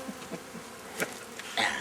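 Honeybees buzz faintly around an open hive during a beekeeping session, a soft drone that flares briefly louder near the end.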